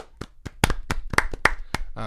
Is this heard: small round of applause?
yes